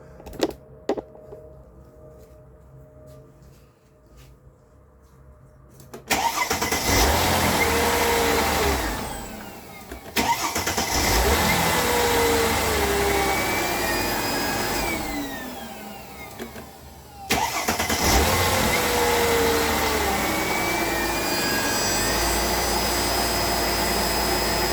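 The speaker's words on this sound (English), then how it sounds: "let me show you what the extended crank sound like" A car with a camshaft position sensor fault (P0341) starts after a quiet moment and runs loudly, a steady, close, broadband engine roar that briefly dips twice before settling, with no talk.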